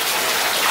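Water gushes and splashes steadily in a tub while two puppies are bathed, a brief close, bright wash of running water with no voices.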